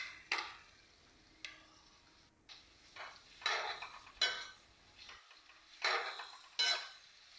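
Capsicum and tomatoes being stirred in a pan for paneer angara, with spaced scrapes and clinks of a spoon against metal, moderately quiet with short pauses between strokes.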